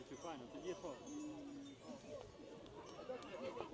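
Horse whinnying at a horse show of about 100 horses in Kosmach, heard amid crowd murmur and people talking, with the neigh rising briefly through steady background noise.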